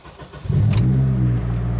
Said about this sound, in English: Let's see if it turns over.